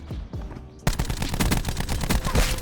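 Rampart-17 rifle gunfire in a video game, sounding as rapid automatic bursts of loud, sharp shots that start abruptly after a brief quieter pause and keep rattling closely to the end.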